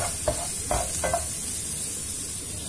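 Tomato concentrate sauce browning in a pan, with a steady hiss of sizzling and a few soft scraping stirs near the start, close and moderately loud.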